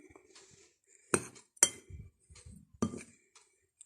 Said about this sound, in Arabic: كتشوفوا هاد العناصر كنخلطوها مزيان باش تندمج